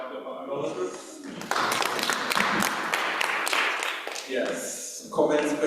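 Audience clapping at an international conference session swells in the middle, set between stretches of talking at the start and end.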